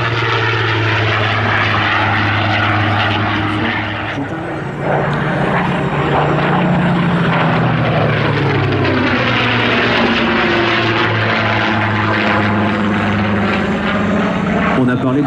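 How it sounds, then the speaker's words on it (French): A Supermarine Spitfire warbird flying past at an air show, its piston engine and propeller droning loudly and steadily with a Doppler sweep as it passes, while a commentator speaks over the public address. "Et c'est précisément le Spitfire qui vous est présenté aujourd'hui."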